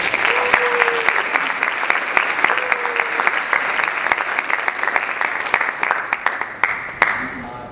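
A lecture audience applauds to welcome a speaker: dense, steady clapping sustained for several seconds at close range before thinning out, with a faint voice briefly audible beneath it.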